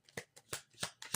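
A deck of playing cards shuffled by hand, four or five quick riffling bursts close up in just over a second, with no talk.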